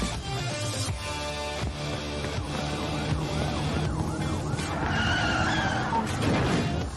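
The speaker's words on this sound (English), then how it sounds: "Getting chased by the cops." A police chase in a video game: wailing sirens rise and fall over a revving car engine and tire skids, loud and continuous throughout.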